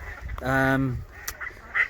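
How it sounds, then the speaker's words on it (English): Ducks calling in the Kent countryside near Eastwell by Ashford, one loud honking call close by followed by fainter scattered sounds. "Obviously upsetting the ducks."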